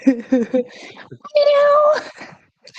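A person imitates a cat, giving a drawn-out, high meow after some brief speech, then falls quiet.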